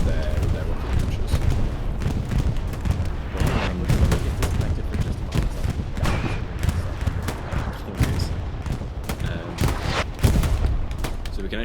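A bombing run in the video game Hell Let Loose hits a front line, a dense, continuous barrage of booming explosions and gunfire rumbling throughout, with a voice talking over it.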